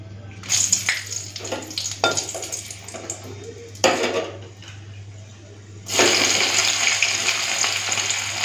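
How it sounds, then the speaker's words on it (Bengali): Dried red chillies, green chillies and onion hit hot oil in a pan: a few utensil clatters and scrapes, then a loud, sustained close-up sizzle that holds steady to the end. "এখন শুকনো লঙ্কা, কাঁচা লঙ্কা, পেঁয়াজ ভেজে নিই। একটুখানি ফাটিয়ে দিলাম।"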